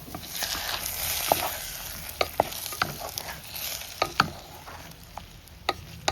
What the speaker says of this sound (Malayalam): വെളുത്തുള്ളി കറിവേപ്പിലും കൂടി താളിച്ചൊഴിച്ചു